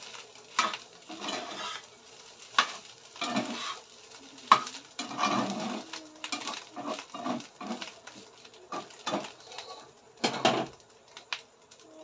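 Fish roe frying in a pan while being stirred, giving repeated scraping and clattering strokes over a soft sizzle, close and moderately loud, with no talking.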